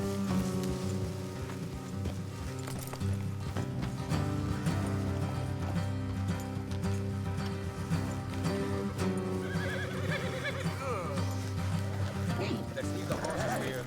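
Horses whinny and hooves clip-clop steadily on a path in a Western video game, with rain pattering throughout and a continuous musical score underneath; no talk.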